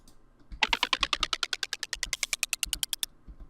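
Minecraft note block placed on glass playing its clicks-and-sticks instrument, a fast run of about twenty-five sharp, dry, evenly spaced clicks that starts loud and gradually softens, with no talking.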